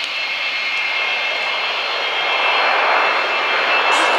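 A V-22 Osprey tiltrotor aircraft flies a display at RIAT Fairford, its engine roar broad and steady, slowly swelling as it nears, with no voices over it.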